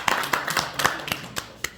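A small audience at a theology workshop claps to welcome a professor. Only a handful of distinct claps are heard, spaced and fairly close, and they fade quickly.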